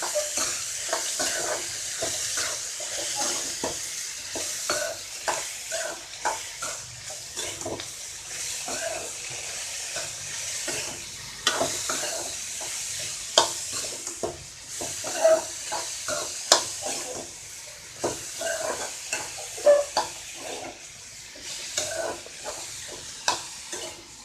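A spatula stirs banana stem and grated coconut stir-fry in a pan, repeated scraping and tossing strokes in an irregular rhythm over a soft continuous sizzle, close and fairly loud.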